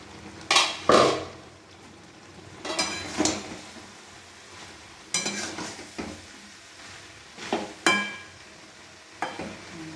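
Pumpkin, potato and soya chunks being stirred in a cooking pan, with about six separate scraping, clattering strokes of a spoon against the metal over a soft background hiss, close and with no talk.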